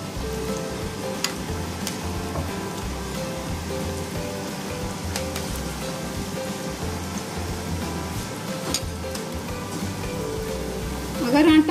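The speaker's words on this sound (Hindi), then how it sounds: "अब ये तल रहे हैं" Samosas deep-fry slowly in oil over low heat, with a steady, crackling sizzle that holds beneath a person talking throughout.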